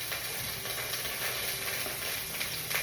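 Onion or garlic frying in hot cooking oil in a home kitchen, a steady bright sizzle that crackles continuously and evenly throughout, close and moderately loud with no voices.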